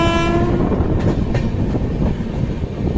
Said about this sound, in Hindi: तो लीजिए हमारी ट्रेन अब अंतिम स्टेशन, और इस ट्रेन की भी अंतिम स्टेशन रक्सौल जंक्शन RXL पहुंचने ही वाली है कुछ ही पल में।